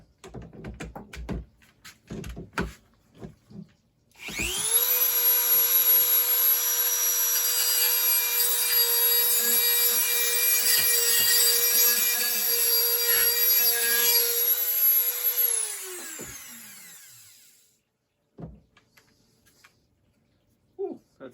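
A Dremel rotary tool cuts with a loud, steady high whine lasting about twelve seconds before spinning down, with scattered clatter and handling noises before and after.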